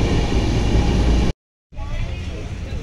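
Darjeeling Mail superfast express train pulling into New Jalpaiguri station, a loud, dense rumble of rolling wagons that cuts out abruptly and then resumes slightly quieter, heard up close.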